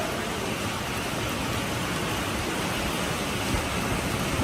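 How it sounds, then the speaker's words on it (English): Heavy rain pours steadily onto the roof of a restaurant and lounge under demolition and renovation in Puerto Plata, a loud, dense, unbroken wash of noise with no voices. "Look at how bad the rain is coming down."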